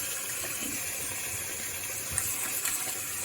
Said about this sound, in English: So now I'm starting to do some rinsing of it, checking for bleeding